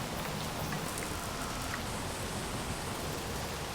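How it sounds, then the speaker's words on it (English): Heavy rain in the video game Space Engineers hisses as a loud, dense, unbroken wash of falling drops hitting surfaces, steady throughout with no talking. "Man, this rain is really loud."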